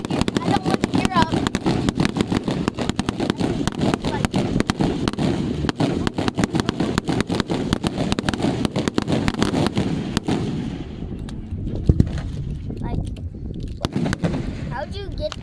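A neighborhood firework show in Dewitt, Nebraska, with firecrackers crackling in a dense, continuous barrage of pops and bangs for most of the stretch before thinning out, voices chatting nearby.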